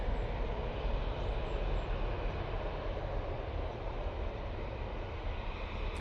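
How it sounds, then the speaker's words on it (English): A Tui Boeing 737-800 airliner taking off for Palma de Mallorca, making a steady, broad engine roar that holds at an even level throughout, with no voices. "Tui 737-800 is off to Palma de Mallorca."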